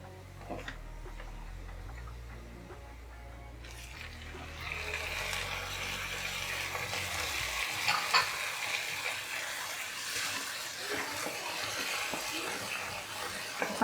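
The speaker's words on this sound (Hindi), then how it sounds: "अच्छी तरह से फ्राई होने दो।" Onions and tomatoes fry in a pan for prawns sukka, a soft, faint sizzle with light stirring taps as a low hum dies away partway through.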